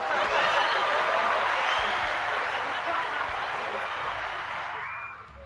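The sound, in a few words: audience clapping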